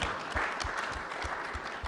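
A short stretch of steady clapping from a group at a conference plenary session, dense and even, with a low rhythmic thump beneath.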